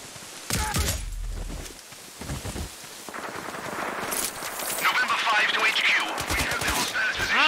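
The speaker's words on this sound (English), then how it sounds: "Someone's shooting us!" Rapid gunfire crackles in bursts in a sniper video game, loud and sharp, rising into dense clattering volleys toward the end, with a voice speaking over parts of it.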